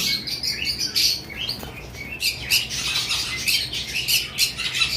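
A pair of ceramic conure parrots kept for sale calls with repeated shrill chirps and squawks, close and continuous over a low background rumble.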